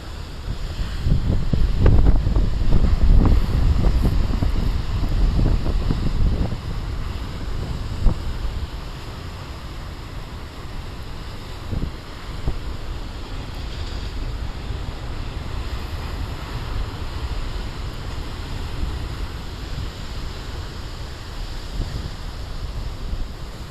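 Wind gusts across the microphone by reeds at the shore near Beavertail Lighthouse, with big ocean surf roaring beneath. A strong gust swells early, then settles into steadier blowing.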